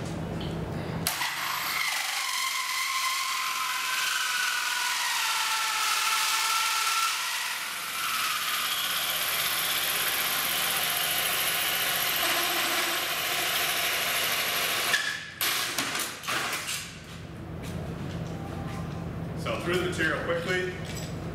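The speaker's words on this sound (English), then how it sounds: "So I'll take the HoleDozer, carbide teeth again, same saw, I just cut those hardened fasteners, and I'll make a new hole here." A Milwaukee HoleDozer carbide-toothed hole saw on a power drill whines and grinds steadily through material to cut a new hole, loud and close, then winds down into clatter as the cut finishes and someone speaks.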